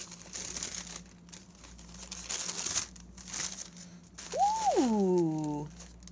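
Paper crinkles and rustles while a yarn subscription box is unwrapped, close and moderately loud in scattered bursts, with a brief rising-and-falling squeak or voice-like tone near the end.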